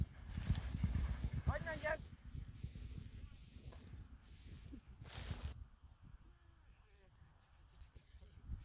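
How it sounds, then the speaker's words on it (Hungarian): Horses are walked after training work at a trotting track, with hoof clip-clops and snorts under nearby talk and outdoor wind noise. "Munka után lesétálják a lovakat, másfél kör volt a feladat."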